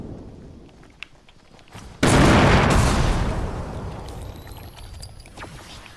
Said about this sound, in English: there's explosions going on.